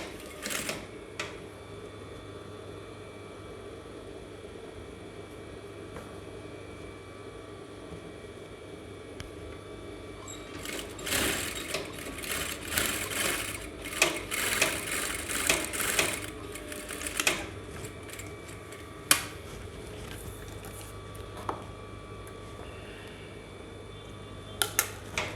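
A sewing machine stitches an Aso-Ebi cap from the midpoint, quiet at first and then a burst of rapid mechanical clattering through the middle, with scattered clicks toward the end.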